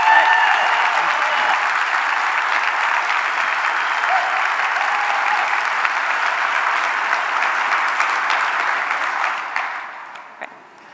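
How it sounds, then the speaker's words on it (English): A conference audience applauds the organizers and volunteers with sustained, dense clapping that fills the room at a steady level, then thins out and fades near the end. "can we all please start with giving a huge, huge, huge round of applause to the wonderful organizers of the conference and all the volunteers"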